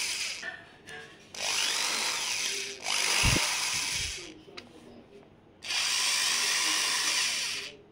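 A cordless electric screwdriver drill runs in reverse in bursts, giving three loud whirring spells separated by pauses with faint clicks and thumps between them.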